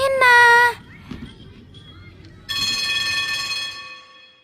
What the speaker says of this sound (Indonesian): Bel pun berbunyi.